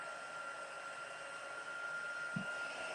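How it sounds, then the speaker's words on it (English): A steady, even whoosh of blowing air from a heat embossing tool runs throughout, close by, with a brief low thump near the end. "Now I am going to turn my heat tool on"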